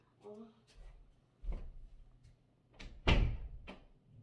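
A door shuts with a close, solid thud, preceded by softer handling bumps. A voice speaks briefly at the start.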